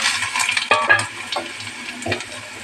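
Pointed gourd frying in hot oil tempered with five-spice, sizzling steadily while a spatula scrapes and stirs the pan in short bursts, close and clear with no talk.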